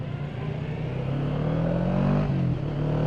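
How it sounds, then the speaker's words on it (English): Steady engine rumble from a Kawasaki Vulcan S motorcycle riding through town traffic in Northampton, a continuous low drone that swells slightly as it revs, loud and close throughout with no talking. "we're back in Northampton now, so traffic is now full on again"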